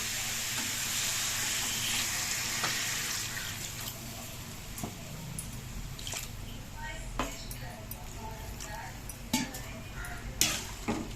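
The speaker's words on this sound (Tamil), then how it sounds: "இப்போ நான் தண்ணி சேர்க்குறேன்." Water poured into a pan of chicken curry on the stove, giving a steady sizzle with occasional clinks of utensils against the pan, while a person talks over it.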